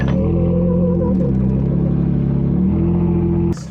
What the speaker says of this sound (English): give it some gas